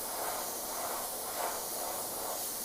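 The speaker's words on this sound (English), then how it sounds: "I just spray the whole thing." An airbrush sprays paint over frisket masking on a cherry painting, a steady soft hiss of air and paint that holds evenly throughout at low volume, with no talking.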